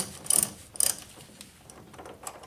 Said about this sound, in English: So take your 10mm socket, go ahead and loosen.